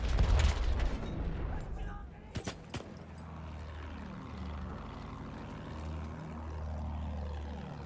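A propeller airplane drones overhead in the World War I shooter Battlefield 1, its engine pitch rising and falling as it passes, with a burst of gunfire near the start and a player talking over it.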